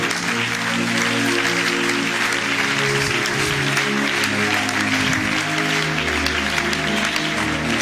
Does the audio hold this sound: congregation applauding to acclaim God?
yes